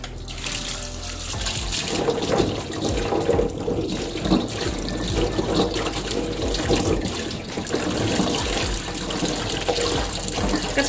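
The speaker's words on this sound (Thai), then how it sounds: "อันนี้ป้าก็จะล้างทำความสะอาดเพิ่มเติมค่ะ" Fingerroot is washed under a running kitchen tap, the root being rinsed to remove soil. Loud continuous water splashes and gushes for about eleven seconds, with busy handling of the roots in the stream and no talking.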